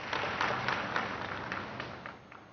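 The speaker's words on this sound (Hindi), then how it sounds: "हम तालियों के साथ आभार प्रकट करें माननीय प्रधानमंत्री जी का" An audience at a PM Modi event in Deoghar, Jharkhand applauds steadily for a couple of seconds, a soft, distant wash of clapping heard through a live broadcast.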